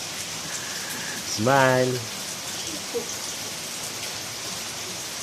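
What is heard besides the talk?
rain falling in the afternoon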